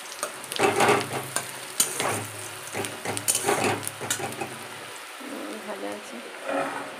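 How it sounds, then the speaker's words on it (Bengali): Tangra fish and onion fry in a pan with a continuous sizzling hiss, partly masked by voices talking over it. "ট্যাংরা মাছের পেঁয়াজ ভাজা বসিয়ে দিয়েছি।"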